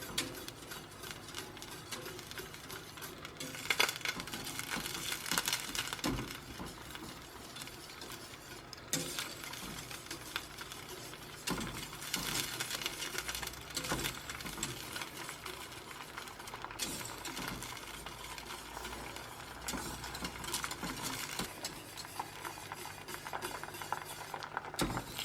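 An oleo-calcareous liniment of oil and limewater stirred steadily in a saucepan, with faint clinks of utensil against the pan over a continuous soft, busy wash of sound.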